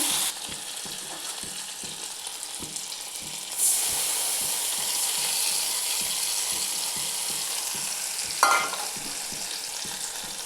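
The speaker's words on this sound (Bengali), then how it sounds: "মশলাটা আগে সুন্দর করে ভেজে নিচ্ছি" Spice paste frying in a pan for a papaya and chana dal curry, a steady close sizzle and hiss with a faint rhythmic ticking underneath, rising slightly partway through and punctuated by a short sharp clatter near the end.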